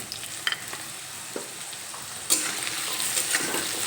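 Carrots and potatoes fry together in a pan over a medium flame, a steady sizzle broken by a few scraping stirs, growing slightly louder partway through.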